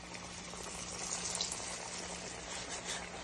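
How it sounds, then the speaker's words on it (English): Breaded chicken tenders deep frying in hot oil give a faint, steady bubbling hiss that holds evenly through the short stretch, with no talk over it. "you notice the bubbling all around the pieces"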